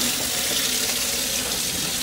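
Water pours steadily from a tap into a sink with a dense, constant splashing hiss that stays loud and close throughout, with no talking.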